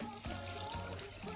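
Water is poured into a small saucepan already holding sugar to make syrup, a soft, steady splashing stream heard faintly and close by, with no talk.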